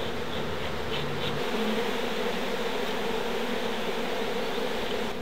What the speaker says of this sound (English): we've got a few bees stuck in here